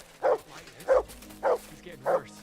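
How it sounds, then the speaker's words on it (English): In the video game Kingdom Come: Deliverance 2, a dog gives four short, evenly spaced barks, each clear and fairly close, over a faint background. "Good dog, Mutt. Show me."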